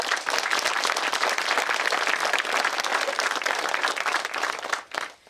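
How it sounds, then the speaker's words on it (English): Applause from a crowd at an outdoor groundbreaking event for an off-road trail project, a steady wash of clapping that holds evenly and then breaks off abruptly near the end. "Give them a round of applause."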